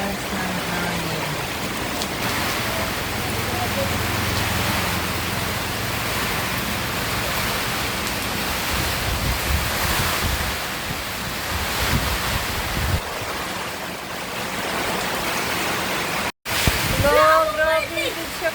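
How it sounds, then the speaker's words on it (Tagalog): Strong typhoon wind roars in Dipolog City, buffeting the microphone as a loud, continuous rush with rain noise mixed in. Brief voices break in near the end. "Taas ng hangin."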